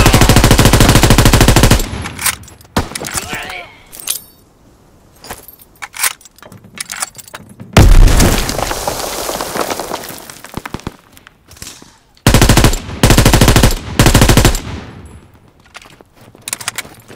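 Machine gun suppressing fire in Call of Duty: WWII, heard as loud sustained bursts of rapid gunfire at the start, in the middle and again near the end, with quieter battlefield clatter in between.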